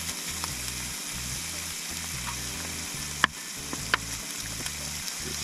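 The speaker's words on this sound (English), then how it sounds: "just doing the old scrambled eggs for brekkie" Scrambled eggs sizzle steadily in a single pot over a camp stove at a creekside bush campsite, a constant frying hiss with a couple of sharp metallic scrapes from stirring.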